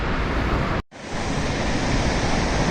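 Yosemite waterfall mist and rushing water make a loud, broad hiss that fills the air, cut by one abrupt near-silent gap before the roar returns at full strength.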